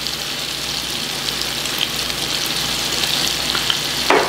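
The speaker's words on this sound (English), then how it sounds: "So I'm adding a little bit of oil, another tablespoon of oil, so the garlic won't burn." Garlic sizzling in a pan of oil for an oven-baked dum biryani, a steady close crackling fry with light stirring, no voices.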